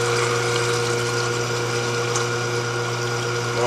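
Vegetable grinder motor running steadily while grinding carrots and onions, a continuous loud whirring hum with a strong low tone and no talk.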